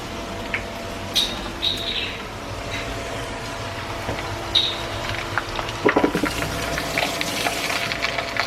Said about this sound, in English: So let's go ahead and add that red meat in there.